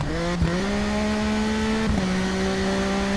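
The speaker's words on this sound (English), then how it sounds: "Coming off the throttle through here, back on again and again, coming off now." A motorcycle engine in the TT Isle of Man racing game holds a steady high whine, dipping briefly twice as the throttle comes off and back on, loud and continuous.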